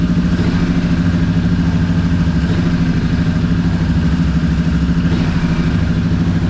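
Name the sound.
Rebel motorcycle engine running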